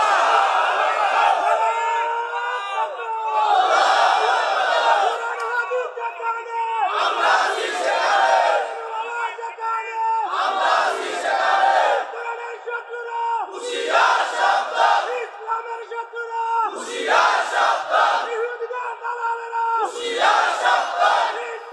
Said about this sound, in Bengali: একটু হাত উঁচু করে একটু তাকবীর দেন।